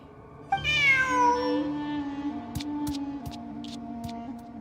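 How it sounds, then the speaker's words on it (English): A cat meows once in the video game Genshin Impact, a clear drawn-out call followed by soft game sounds and light clicks. "Who's a good kitty?"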